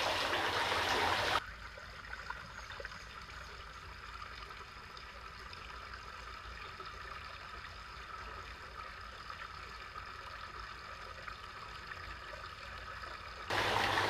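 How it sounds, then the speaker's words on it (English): Water flows steadily around a submerged SCX10 Rubicon RC truck, a soft continuous trickling and gurgling at low volume that holds throughout, with louder handling noise at the very start and end. "I don't know how well you're going to be able to hear me with the sound of the water"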